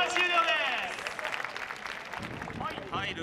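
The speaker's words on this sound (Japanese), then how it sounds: "拍手をしてる。" Stadium crowd at a Ventforet Kofu football retirement match applauding, a soft wash of distant clapping under close, lively commentary voices.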